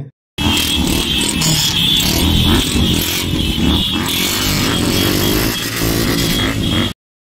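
Loud, continuous roar of motorcycle engines revving together at a crowded fan rally, close and dense, a throbbing rumble with buzzing overtones that holds steady for several seconds before cutting off.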